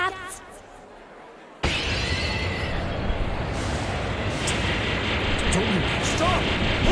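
Sustained, loud, dense gunfire and blasts in the video game Mega Man Legends 2 break out suddenly after a quieter opening and rumble on without pause, with voices talking over the barrage.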